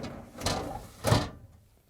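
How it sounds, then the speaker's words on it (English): A Frigidaire refrigerator crisper pan slides onto its rails, giving two short plastic scraping rubs, the second louder and ending in a soft knock, close by with no talk. "To install the new crisper pan, we just slide it on the rails."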